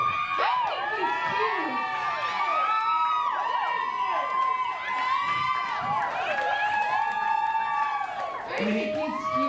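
A lively crowd at a church-night comedy show cheers, whoops and shouts in overlapping bursts, with excited voices rising and falling throughout and talk mixed in.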